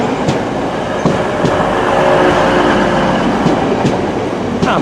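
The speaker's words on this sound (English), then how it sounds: "Here comes a pair of Class 185s going to Cleethorpes" A pair of Class 185 diesel trains bound for Cleethorpes rolls past close by at Manchester, a steady loud rumble with rhythmic wheel clicks over rail joints and a faint squeal.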